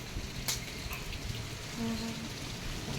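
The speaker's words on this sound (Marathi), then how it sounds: "सुंदर म्हणजे एकदम पाऊस येतोय" Steady rain hisses across the whole stretch while gusty wind rushes over it, with a low hum briefly rising near the end.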